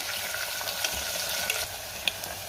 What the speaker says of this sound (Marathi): कांदा मी 2 मिनिटं परतून घेणार आहे।